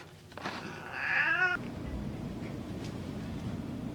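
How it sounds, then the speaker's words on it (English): A single drawn-out cat meow in a dorm room, close and clear, followed by a low steady background hum. "There's a cat."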